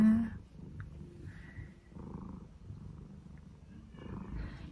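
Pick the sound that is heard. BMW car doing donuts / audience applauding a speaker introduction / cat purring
cat purring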